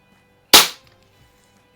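A single sharp crack from an RWS Diana LP8 Magnum air pistol fired at a splatter target, close and loud, with a brief decaying tail and otherwise near silence.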